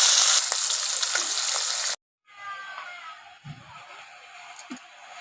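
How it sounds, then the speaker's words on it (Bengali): Hilsa fish fries in hot oil with a loud, dense sizzle that cuts off abruptly. It is followed by a quieter stretch of faint sizzling and a couple of soft knocks. "ইলিশ মাছটা ভেজে নিলাম"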